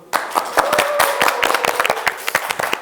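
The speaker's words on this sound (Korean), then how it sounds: "박수!" Clapping from a small audience welcoming guests at a Korean year-end talk show event, a burst of individual claps that starts abruptly and continues steadily and fairly close for a few seconds without talk.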